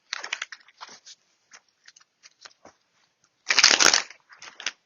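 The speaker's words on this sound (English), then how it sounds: "we're going to do a few more shuffles." Tarot cards being shuffled by hand, with soft riffling bursts and taps scattered through the passage and one long loud riffle near the end, close and with no talking.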